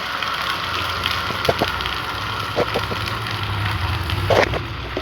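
Spice paste hits a hot pan and sizzles in a steady, close hiss with scattered small crackles and pops, no voices over it.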